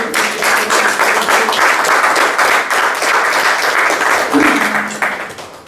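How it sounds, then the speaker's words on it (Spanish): Loud, dense applause from a church congregation, steady and sustained for several seconds before tapering off slightly at the end, with no one talking over it. "fuerte aplauso."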